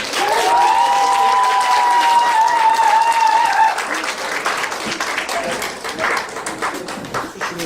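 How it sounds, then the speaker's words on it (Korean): Loud applause from an audience welcoming an author to a talk, a dense clapping roar that eases slightly partway through, with a steady whistling tone and crowd voices mixed in for the first half. "큰 박수로 맞아주십니다"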